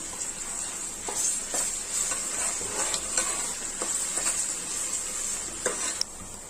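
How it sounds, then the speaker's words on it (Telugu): Ginger paste being stirred into onions frying in oil, a steady sizzle with repeated scraping strokes of a spoon against the pan throughout, close and fairly loud, no talking. "ఆనియన్ కొంచెం మగ్గిన తర్వాత అల్లం పేస్ట్ వేసుకోండి మంచిగా కలుపుకోండి"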